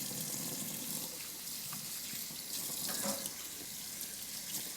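Steady tap water runs continuously from a faucet while a Rolex watch is rinsed beneath it, a close, even splashing hiss with no pauses.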